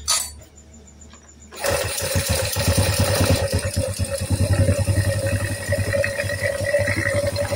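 A motorcycle engine with oil rising toward the cylinder head fires up after a quiet start and keeps running with a steady, rapid rattling rumble nearby.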